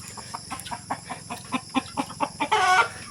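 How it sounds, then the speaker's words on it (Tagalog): Chickens cluck in a steady series of short, close calls, ending with a louder, drawn-out squawk. "Yan po yung ating mga alagang manok."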